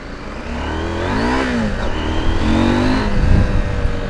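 KTM 790 Adventure motorcycle engine revving and accelerating close by, a steady loud drone whose pitch sweeps up and down in waves, with a faint voice briefly underneath.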